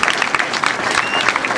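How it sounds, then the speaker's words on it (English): Audience applause at a LifeStyle Homes Extreme Makeover: Home Edition event, a brief, dense burst of clapping from a crowd that carries steadily throughout without fading. "give them a huge round of applause back there, please"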